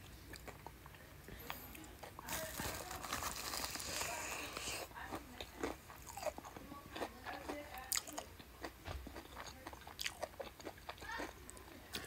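Close, quiet bites and chewing of crunchy chicken from Nala Gourmet, with a string of small crisp crunches and soft mouth sounds spread across the clip. No one speaks over it.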